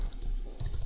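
A few quick keystrokes on a computer keyboard enter a command, two short soft clicks separated by a brief pause, close and with no voices.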